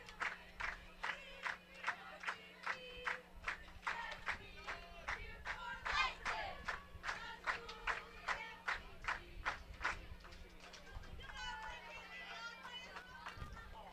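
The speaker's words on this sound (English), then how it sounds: "the cheerleaders lead the crowd in the school song" A stadium crowd at a high school football game sings the school song, led by cheerleaders, with rhythmic chanting and shouted bursts over a steady low hum, continuing throughout.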